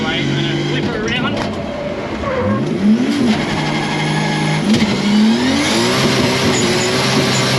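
A car engine revs hard as the car is swung around with the handbrake, its pitch sweeping up and down with brief tyre squeal. The sound is close and loud, with voices talking over it.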